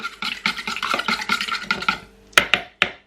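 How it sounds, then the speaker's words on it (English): A whisk scrapes and taps quickly against a bowl while combining wet muffin ingredients including oil, a fast rhythmic clatter followed by a few sharp knocks. "whisk about just to combine all of the wet ingredients together"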